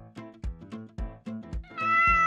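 Cat meowing in a kitchen, a string of six or seven close, fairly faint meows with the last one drawn out and louder, no talk over them.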